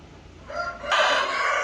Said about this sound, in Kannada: ಇವು ವನಶ್ರೀ ಅಂತೇಳಿ ವನಶ್ರೀ ಬ್ರೀಡ್ ಇವು ವನಶ್ರೀ ಇವ್ರ ಬ್ರೀಡ್